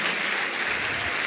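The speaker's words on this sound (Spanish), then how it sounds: "¿Le puede dar un aplauso al Señor antes de que empezar?" A church congregation bursts into steady, dense applause in praise, a brief wash of many hands clapping together at moderate volume.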